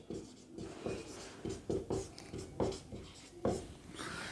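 Chalk or marker writing on a classroom board in a quiet room, a series of short scratchy strokes tapping out in irregular bursts, fairly faint and close.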